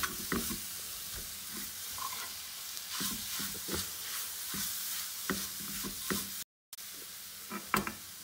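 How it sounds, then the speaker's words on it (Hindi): A spoon stirs fresh coconut and milk powder roasting in a pan, making soft repeated scraping and clacking strokes over a gentle, steady sizzle, close and quiet. "इसको बस हम लोग ज़्यादा नहीं भूनेंगे, 1 से 2 मिनट के लिए ही भूनेंगे। चम्मच बराबर चलाते रहेंगे।"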